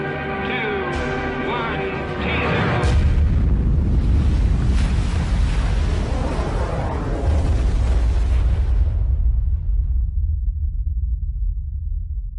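Thermonuclear bomb test explosion, around ten megatons, booming as a sustained deep roar and rumble that swells loud and steady for several seconds before the high end falls away, leaving a lingering low rumble.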